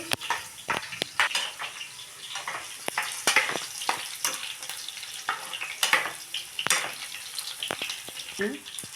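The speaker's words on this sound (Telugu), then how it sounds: "వేయించుకుంటానండి లైట్గా గోల్డెన్ కలర్లో వచ్చేలాగైతే వేయించుకోవాలి" Food fries lightly in a pan toward a golden colour, a steady close sizzle broken by repeated clinks and scrapes of a utensil stirring against the pan.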